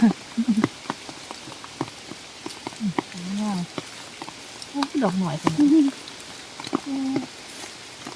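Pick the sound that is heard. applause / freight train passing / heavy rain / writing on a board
heavy rain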